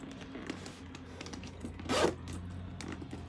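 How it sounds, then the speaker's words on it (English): A canvas leather zipper on a Louis Vuitton handbag is pulled open in one quick, close rasp, preceded and followed by soft handling rustles. "in the middle it has the canvas leather zipper, which I need 2 hands to open"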